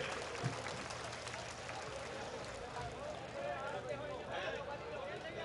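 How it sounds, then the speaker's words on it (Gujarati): A large crowd claps steadily in a dense, continuous wash of applause, welcoming labour and employment minister Liladharbhai Vaghela at a public gathering in Lakhani, Banaskantha. "આપણે સૌ એમને તાળીઓના ગડગડાટથી વધાવી લઈએ."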